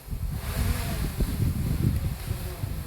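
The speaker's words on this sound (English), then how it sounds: "It's getting a little bit brisk here. Windy, I mean." Steady, blustery wind buffets the microphone with a continuous low rumble, no distinct voices heard over it.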